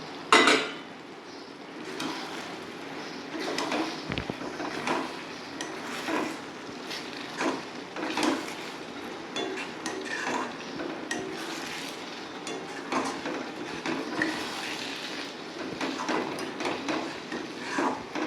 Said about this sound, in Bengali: এবার আমি এর মধ্যে যে ভেজে রেখেছি মাছগুলো ওগুলো আমি দিয়ে নাড়িয়ে